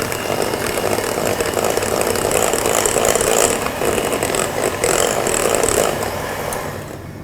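Electric hand mixer beating cake batter with eggs and vanilla essence for a walnut and chocolate chip cake, a steady loud continuous whirring drone that holds for several seconds and eases off slightly at the end, with no talking.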